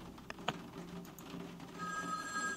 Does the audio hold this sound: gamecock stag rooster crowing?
no